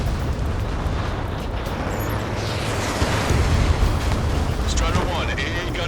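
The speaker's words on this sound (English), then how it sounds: "Strider 1, AA gun destroyed" An anti-aircraft gun is blown up in the combat flight game Ace Combat 7, a broad rumbling explosion amid roaring jet and wind-like noise, swelling midway and then fading into continuous background roar.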